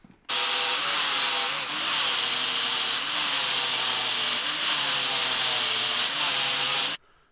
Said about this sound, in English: All the parts are marked, and now we go to grinding.